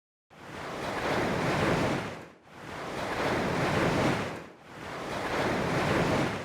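Big ocean waves from a Padshop 2 synth preset: three long, loud swells of broadband surf rushing in and fading, each separated by a brief dip in level, with no voices.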